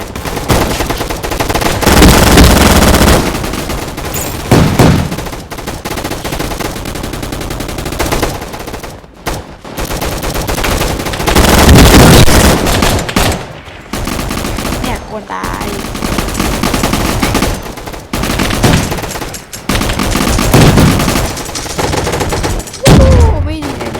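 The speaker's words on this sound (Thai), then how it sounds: "มันทริปเปิคิวแล้วเนี่ยมันเฮ้ยเมื่อกี้มันยิงกูมา" Gunfire in a Roblox video game: sustained loud automatic bursts and rapid shots crowding the whole stretch, with brief pauses between volleys and some talk mixed in.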